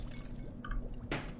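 An object smashes in the video game Little Kitty Big City, a brief sharp shattering crash near the end following a quiet stretch of low game ambience.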